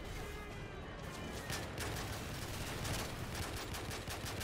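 Sustained automatic gunfire from the video game Call of Duty Modern Warfare 3, a dense, continuous rattle of shots that stays steady and loud throughout with no pauses.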